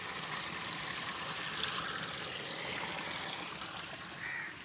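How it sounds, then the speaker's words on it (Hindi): Water flowing along and spilling down a small waterfall outdoors makes a steady, broad rushing wash at low level throughout, with no talk. "ये जो पानी जा रहा है ये गिर रहा है यहाँ पे नीचे"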